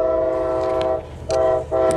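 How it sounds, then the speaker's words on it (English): A train passes near the Santa Barbara pier, sounding loud, close horn blasts: one long sustained blast, then shorter bursts after brief pauses, with no talking. "That's a train."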